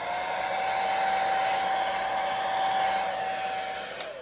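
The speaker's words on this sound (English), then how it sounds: "Now we will do the same technique with the hair dryer." A hair dryer blows continuously at close range over acrylic pour paint on a tile, making cells, with a steady whooshing roar and a thin tonal whine, cutting off with a click at the end.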